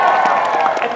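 An audience at the KrakenCon 2018 cosplay show claps and cheers in a brief, dense burst of applause.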